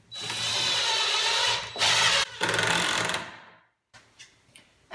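A power drill driving screws into a wooden entry bench, a loud close whir in a few bursts that winds down to silence, followed by faint clicks and handling noise.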